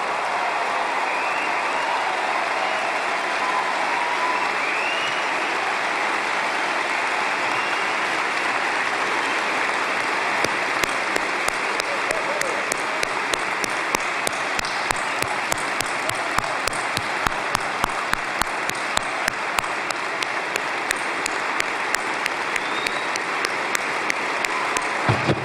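Large audience of thousands at an American Israel Public Affairs Committee conference breaks into sustained applause and a standing ovation, a dense, steady roar of clapping that grows more distinct and punchy toward the end, with no talking.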